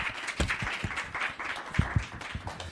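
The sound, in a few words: audience applause for a speaker on stage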